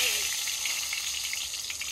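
Onions and cardamom fry in a hot wok for a duck dish, giving a loud, continuous hiss and sizzle with faint stirring.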